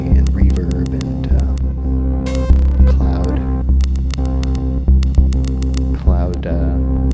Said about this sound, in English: I like to smear everything around with different flavors of delay and reverb and